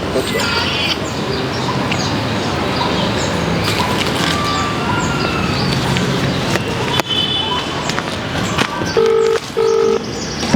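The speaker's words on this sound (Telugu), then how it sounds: "అశోక్ సార్కి మనం ఫోన్ చేస్తున్నాం" A mobile phone dials out during a hunger strike protest outside a residence. Two short beeping keypad tones sound near the end over steady crowd noise and nearby chatter.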